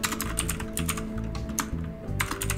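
Rapid typing on a computer keyboard, a steady run of close, clicky keystrokes with brief pauses, heard alone over a faint background hum.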